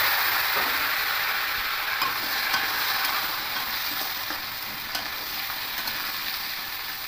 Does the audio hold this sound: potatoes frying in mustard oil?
yes